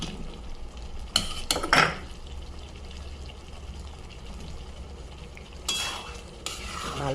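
Potatoes stirred into a frying cauliflower curry in a pan, a steady low sizzle with a few sharp scraping clatters of the spoon against the pan near the start and again toward the end.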